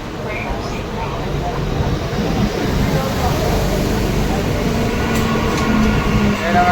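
A local train pulling into a station in India produces a loud, steady low rumble and roar that builds slightly through the clip, with a brief high squeal near the end.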